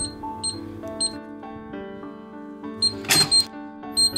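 Electronic safe lock keypad being pressed, a series of short electronic beeps spaced across a few seconds with a brief burst of mechanical clatter near the end, close and fairly loud.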